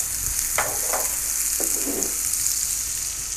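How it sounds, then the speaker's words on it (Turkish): A butter and flour roux for red lentil soup fries in a pan with a continuous sizzling hiss. A few soft scraping stirs cut through over a few seconds, and no voices are heard. "un, meyane kavruldu, pembeleşti"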